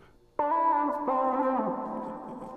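A single sustained vocal-like tone with heavy spring reverb and a delayed echo repeating it, trailing off into a washy tail.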